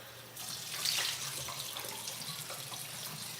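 A bathroom tap runs steadily while someone rinses their face during a nighttime skincare routine, a continuous close splashing stream that swells briefly near the start.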